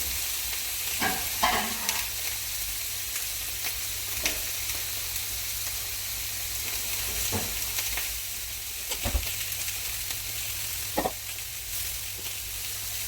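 Steaks fry in a hot pan, a constant close sizzle broken by several sharp clanks and flips as pieces are turned, with no talking.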